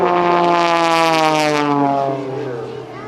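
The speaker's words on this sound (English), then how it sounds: "As he pulls up sharply to the right and to the left, tumbling the airplane tail up over canopy" A propeller aerobatic airplane performs maneuvers at a 2005 Rhode Island Air National Guard open house airshow, its engine droning loud and close with a pitch that shifts and then fades slightly as it pulls away.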